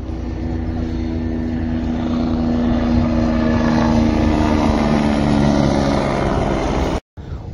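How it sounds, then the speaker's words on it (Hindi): A helicopter carrying pilgrims on the Amarnath Yatra route flies overhead with a loud, steady rotor and engine drone that holds constant before cutting off abruptly near the end. "ये देखो भाई वो हेलीकॉप्टर जा रहा है यात्री को लेके"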